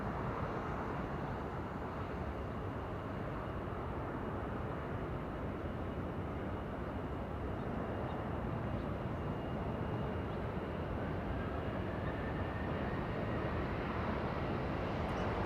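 Southwest Airlines jet taking off from runway 24 left at Los Angeles International Airport, a steady broadband jet roar holding loud and constant throughout at a distance.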